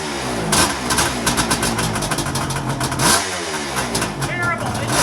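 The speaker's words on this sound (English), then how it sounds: "And see how cold two-stroke will start up" A 1975 Kawasaki two-stroke motorcycle engine cold-starts with the enricher on, sputtering and revving in uneven bursts close by, loud and rough throughout with a voice partly audible under the engine.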